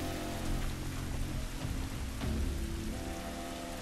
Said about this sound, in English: Thunderstorms make the damn controller vibrate.